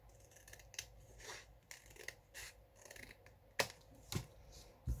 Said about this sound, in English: Then just cut the little top part off.